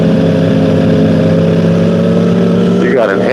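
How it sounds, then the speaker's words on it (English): A car with an amplified, modified muffler idles and revs loudly and close, its deep, steady engine drone filling the whole stretch, with a brief rising rev near the end. "Why is your car so loud if it's not going to go anywhere?"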